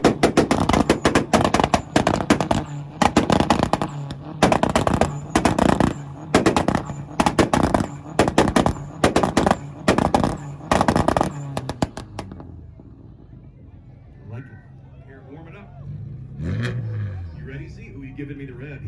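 A Volkswagen at a 2022 North Carolina rev battle holds two-step launch control, firing rapid, loud machine-gun pops and bangs for about twelve seconds before the engine drops to a lower rumble. Crowd voices are heard.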